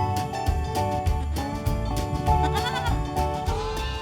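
Lambs and goats bleat close by, several overlapping animal calls rising and falling in quick succession with no talking.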